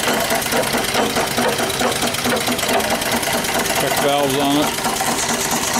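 A live steam engine with flyball governor, about 1.5 horsepower at roughly 80 pounds of steam pressure, fed by a boiler with a 1-inch ram water pump, chugs in a steady rapid mechanical rhythm close by, while someone talks over it throughout.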